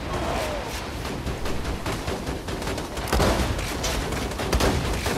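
Dense, rapid gunfire rattles continuously through a boss battle in the game Borderlands 2, loud and chaotic with heavier bursts partway through.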